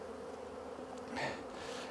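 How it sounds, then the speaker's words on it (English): Honeybees swarm in the air above an opened hive during a spring inspection, a steady, close insect buzz that swells briefly toward the middle of the short stretch. "Look at all those bees down there, guys. And they are starting to really, really, really fly around me too."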